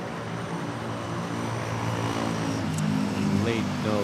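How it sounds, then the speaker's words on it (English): A Philippine Airlines jet arriving from Osaka comes in to land at Manila Airport, a broad, steady engine roar that builds slightly in loudness, with faint tonal whines layered through the rumble. "This Philippine Airlines arriving from Osaka."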